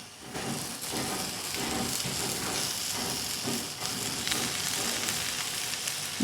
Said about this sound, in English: We're frying.